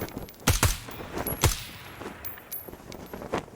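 Assault rifle shots from a long-range AR in the tactical shooter Ground Branch, a few sharp reports spaced apart with a cluster near the start and fainter distant shots trailing off.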